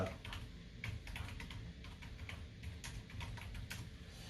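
Continuous rapid typing on a computer keyboard, a dense stream of soft clicks over a steady low background hum, fairly quiet and close with no speech.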